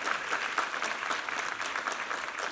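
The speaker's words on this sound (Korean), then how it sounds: "우리 하나님께 감사와 영광의 박수 올려드리겠습니다" A congregation at a Korean Sunday church service applauds together, a dense, steady wash of clapping that holds at an even level for the whole stretch.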